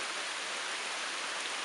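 Steady rain falls during a hot, humid August on an off-grid homestead, a dense even hiss at moderate level with no voices and no breaks.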